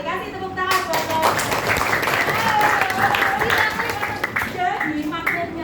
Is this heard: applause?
yes